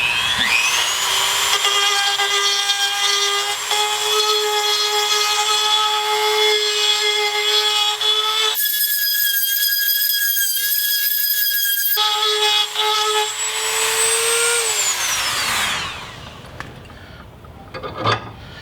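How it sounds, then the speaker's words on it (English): A handheld Dremel rotary tool grinds powder coating off a Jeep sway bar during a lift kit installation, a loud steady high-pitched whine that drops briefly, returns, then winds down near the end, close up with no talking. "let's go ahead and just grind a little bit of that away with the handy dandy Dremel"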